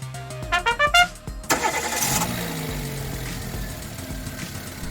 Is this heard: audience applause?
no